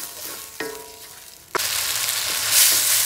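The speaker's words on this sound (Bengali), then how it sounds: "এখন নেড়ে চেড়ে কষিয়ে নিচ্ছি।" Spices and ground coriander sautéing in a frying pan, a steady sizzle broken by a couple of utensil scrapes, growing louder and denser toward the end with no talk.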